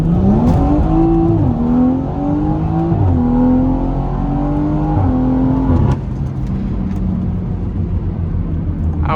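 A 500hp BMW 340i engine revs hard with rising and falling pitch as it launches at night, loud and close, then settles into a steady drone.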